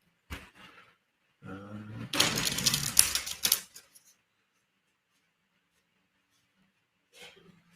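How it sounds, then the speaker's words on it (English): Tarot cards are shuffled in a couple of short, crisp riffling bursts, the second longer and louder, then quiet with a faint rustle near the end. "This needs more shuffling."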